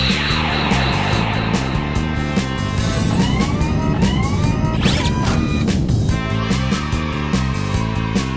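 Cars race in GTA 5 with continuous loud engine drone and music, a sharp skidding sweep near the middle, and a steady dense mix throughout with no talk.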